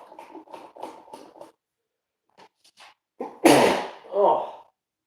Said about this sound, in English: there comes the sneezing